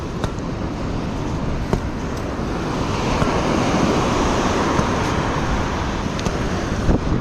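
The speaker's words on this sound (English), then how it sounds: "And there's waves coming." Ocean waves roll in on a razor clam beach in a steady, broad wash of surf, with wind noise over the microphone and a few faint knocks.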